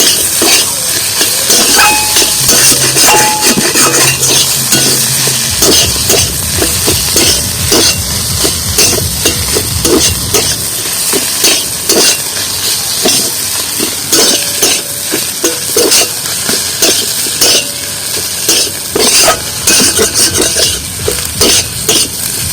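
Potatoes sautéed and stirred in a pan for a stuffed-dough snack, with a steady sizzle and repeated scraping and clinking of a utensil against the pan, close and loud, with no talking.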